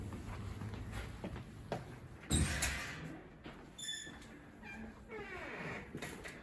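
Cats meow several times in a shelter's cat rooms, faint and intermittent over quiet room noise, with a brief louder bump partway through.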